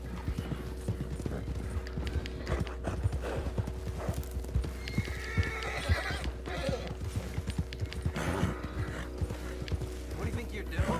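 Steady clip-clop of horse hooves from Red Dead Redemption 2 online, rhythmic and close, with a horse neighing and whinnying partway through and game sounds layered over it.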